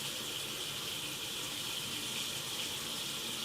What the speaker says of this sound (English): Followed by hot tap water.